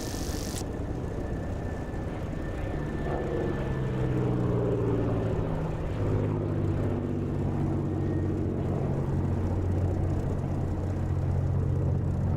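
A propeller aircraft in the DCS flight simulator rolls for takeoff, its engine droning steadily with rising, sweeping tones as power builds, heard alone at moderate level.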